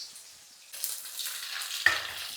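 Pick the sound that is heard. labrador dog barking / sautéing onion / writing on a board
sautéing onion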